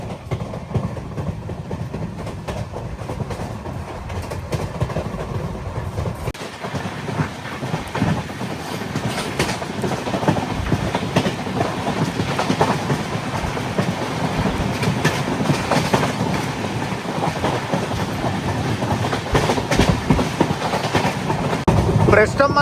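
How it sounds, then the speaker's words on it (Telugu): Navyug Express with LHB coaches cruising through Haryana, heard from inside as a steady rumble and rhythmic rail clatter that grows louder over time, with a person talking over it. "ప్రస్తుతం మన ట్రైన్ క్రూజింగ్ స్పీడ్ అయితే ఇది"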